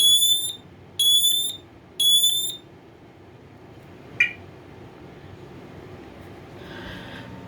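A lithium sealed P1010 smoke alarm sounds three loud, shrill beeps in an even rhythm during a test, followed by a short chirp and a faint rustle in a quiet room.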